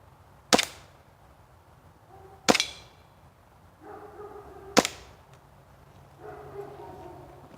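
A WE Desert Warrior airsoft M1911 pistol fires three sharp, loud, widely spaced shots, each snapping crisply, with a voice briefly heard between them.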